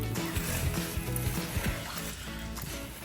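A pan of rice crispy treat mixture being stirred, with soft sizzling and sticky scraping scrapes repeating in an uneven rhythm, close and fairly quiet, with no voices.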